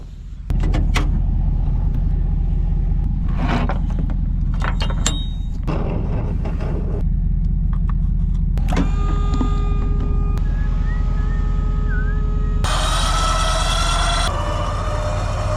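A Ford F350 pickup with a 6.0 Powerstroke diesel idles steadily with a deep, constant rumble, while intermittent clunks and a brief whining tone sound over it.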